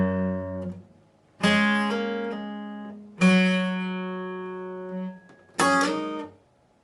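Electric guitar chords from the verse, played as three separate ringing strums. The middle chord slides upward, and each chord decays before the next one starts. No voice is heard.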